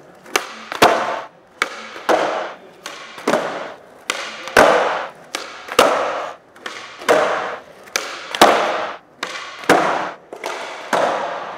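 A skateboarder repeatedly landing kickflips, a string of sharp board snaps and clacks followed by rolling wheel noise, about a dozen impacts in a steady rhythm, close and loud with no talking.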